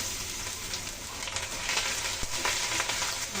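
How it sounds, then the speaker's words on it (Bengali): Ground spices with chili powder and a splash of water frying in oil in a pan, a dense continuous sizzle with occasional light stirring knocks, close and fairly loud. "এখন ভালো করে মশলাগুলো কষিয়ে নেব"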